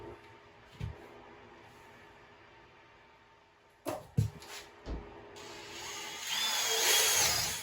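A power drill boring a hole for a custom vanity sink faucet with a dull bit: short bursts around four to five seconds, then a louder sustained grinding whine that builds toward the end, fairly close.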